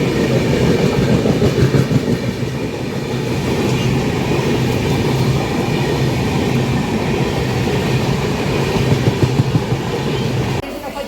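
A MEMU local train pulls out of Madhira railway station in Telangana, with a loud, continuous rumble and rhythmic wheel clatter that holds steady throughout and eases slightly near the end.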